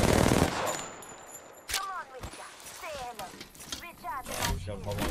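Gunfire in an Apex Legends ranked match: a handful of sharp, separate shots spaced unevenly over several seconds, with a player talking over them.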